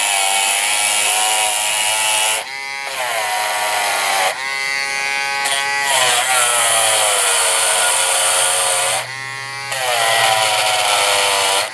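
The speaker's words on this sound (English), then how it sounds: "Always use a brass brush in the Dremel. The steel ones can wreck your wheel sets." A Dremel rotary tool fitted with a brass brush cleans model train wheel sets, whining loudly in steady stretches broken by several short pauses and pitch dips as it loads and spins back up.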